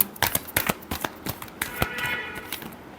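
Tarot cards are shuffled in quick bursts of crisp riffling and slaps, close and fairly quiet, with brief pauses between the flurries.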